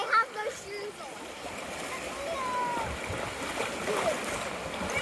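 Sea waves splash and wash around someone wave jumping on a beach with seaweed-covered rocks, a continuous watery rush with scattered splashes and faint voices in the background.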